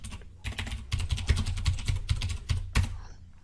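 Rapid, continuous typing on a computer keyboard, close and fairly loud, with dense clustered keystrokes and a few heavier key hits, ending in a short pause.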